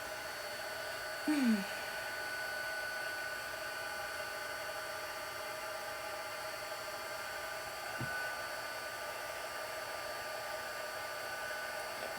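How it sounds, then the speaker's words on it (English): An embossing heat gun blows hot air to melt embossing powder during cardmaking, a steady, moderately quiet whooshing hum that runs continuously, with a brief louder bump early on. "The embossing gun needs to be pretty hot so that we can melt the embossing powder pretty quickly without warping the paper too bad."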